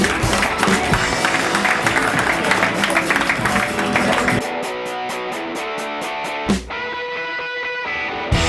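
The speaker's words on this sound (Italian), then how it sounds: "facciamo un bel applauso per Giorgia Pianta" Audience at a Miss Alpe Adria beauty pageant selection clapping for model Giorgia Pianta; loud, dense applause for about four seconds, then fading into electronic music with rhythmic pulses and a brief dropout.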